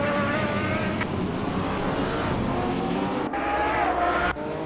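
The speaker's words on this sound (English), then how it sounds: "Lurchinese in turn 11 is P6 driving a Nissan" GTR and GT4 race cars roar through the Laguna Seca circuit in a racing video game, engines droning loudly and continuously with shifting pitch and a couple of abrupt cuts, no voices.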